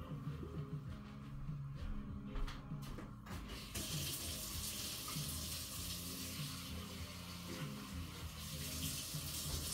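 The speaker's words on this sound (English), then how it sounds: "I'm going to go and rinse this cup." Tap water runs steadily into a sink as a used cup is rinsed out, a continuous close splashing rush that lasts throughout, with a few brief clinks and knocks near the start.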